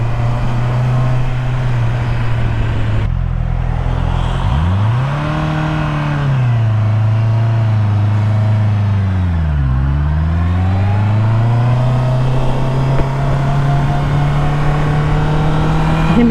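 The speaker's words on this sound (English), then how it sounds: "Hear me revving the tits out of it then." A 2021 Honda CBR650R motorcycle engine idles loud and close, then revs up and falls back twice in long sweeping rises, returning to a steady idle, with no talking over it.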